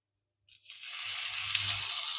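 Aubergine slices laid into hot oil in a pan burst into a loud, steady sizzle after a brief silence, the hiss building and holding close up without pause.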